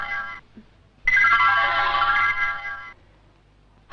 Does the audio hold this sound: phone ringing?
yes